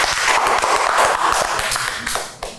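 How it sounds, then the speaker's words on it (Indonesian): Several people in a podcast studio applaud with dense, steady clapping that stays loud for most of the moment and tapers slightly at the end, with no talk. "Kita tepuk tangan dulu."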